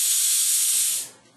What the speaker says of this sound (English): the longer it sounds more and more like a spray